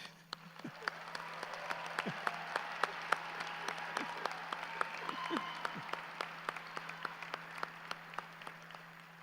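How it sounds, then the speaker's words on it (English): Sustained applause from a graduation ceremony crowd at Bemidji State University, a broad, fairly distant wash of clapping lasting about nine seconds, punctuated by sharp individual claps close by. "another round of applause"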